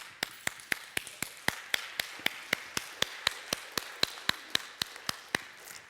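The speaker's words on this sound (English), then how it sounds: "I just want to clap for you" One person clapping hands in a church, sharp evenly spaced claps, about twenty in steady rhythm, close and clear with no talk.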